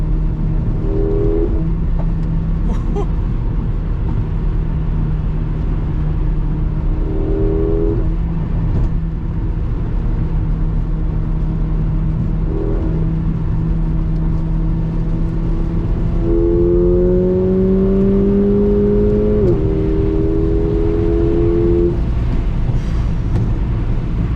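A Mercedes CLA 45 AMG four-cylinder engine revs hard and launches, its pitch climbing in repeated surges through gear shifts with a steady low drone underneath, loud and close throughout.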